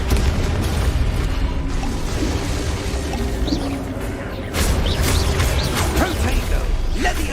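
Confringo blasting spell cast in Hogwarts Legacy, a burst of crackling, booming magic amid ongoing creaks and rumbles of combat, with a sharp swell of impacts near the end.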